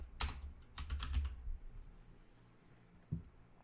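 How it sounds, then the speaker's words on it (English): Keys on a computer keyboard clatter in a quick burst of close, crisp taps, then a pause and a single late keystroke, with no talking. "So I'll just type in Divi theme tutorial."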